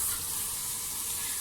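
Tomatoes frying in a pan for a gobhi chicken dish sizzle steadily as a couple of sips of water go in, a continuous close hiss with no talking.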